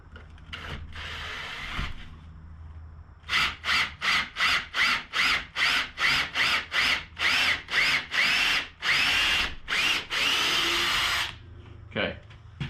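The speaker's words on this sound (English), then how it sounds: "Drill that hole." A power drill bores a hole through a cornhole board frame held in a jig, firing a long string of loud, close, evenly spaced short bursts that stretch into longer runs before stopping.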